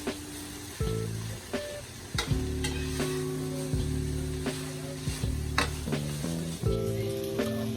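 Leftover rice fries in an overfull small frying pan, with soft sizzling under repeated scraping and stirring clatters from a utensil against the pan, and music playing over it.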